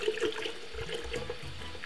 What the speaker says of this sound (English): I'm just gonna add a little bit more water to this